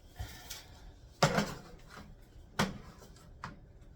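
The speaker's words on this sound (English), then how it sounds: "Let me get my pan here." A cooking pan is pulled out and set down, giving a couple of sharp metallic clanks amid softer kitchen rustling and knocks, close and fairly quiet, with no voices.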